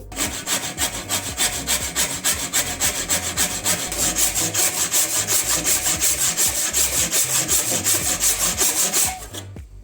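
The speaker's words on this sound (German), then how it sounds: "deswegen werden wir jetzt direkt ans Sägen für den Schlitz für den Keil gehen" A hand saw cuts a wedge slot into an old wooden axe handle in quick, regular back-and-forth strokes, a steady rasping rhythm close by that stops at the end.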